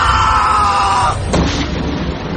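Old woman's loud, sustained scream in a horror story, a shrill wailing cry that holds for about a second before breaking off into a rougher, fading noise.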